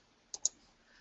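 Two crisp computer mouse clicks in quick succession, close and clear, over a quiet room with no talking, made while working in paper-craft design software.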